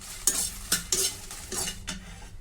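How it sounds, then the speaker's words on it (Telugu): Dry red chillies roast in a hot pan while being pressed and stirred, giving a low sizzle under a handful of distinct scraping strokes spaced roughly half a second apart. "ఈ ఎండుమిర్చి కూడా మనం ఇలా ప్రెస్ చేస్తే పొడి పొడి అయిపోయేంత వరకు వేయించుకోవాలండి."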